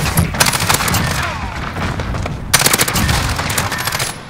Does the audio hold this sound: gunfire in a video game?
yes